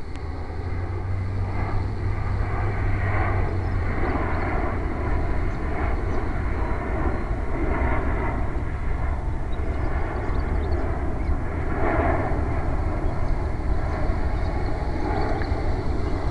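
E-flite Hurricane electric RC model airplane flying loops, a steady motor whine rising and falling in slow regular swells as it passes overhead and the power is cut back through each loop.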